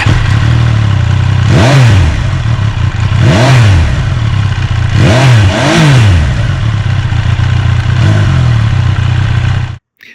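A 2026 Triumph Trident 800 triple motorcycle revs loud and close over a steady idle, with four sharp throttle blips rising and falling before the engine cuts off.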